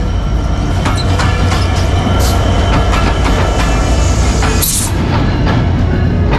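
Titumir Express train pulling into Panchbibi railway station after a delay, a loud continuous rumble of rolling wagons with rattling wheels and metallic clatter, heard close by with no talk.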